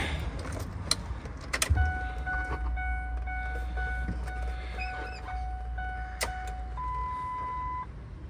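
A 2007 Ford F250 XLT pickup with a four-cylinder Cummins diesel is switched on. Steady dashboard chime tones sound over a low, continuous vehicle rumble, with a few mechanical clicks near the start.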